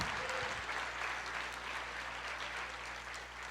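Faint, steady applause from a church congregation at a Pentecost service, continuous clapping over a low electrical hum.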